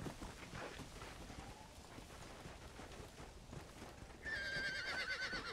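Hooves thud in a steady gallop in the video game Red Dead Redemption: Undead Nightmare, then a loud horse whinny rings out near the end, close and clear with no talking.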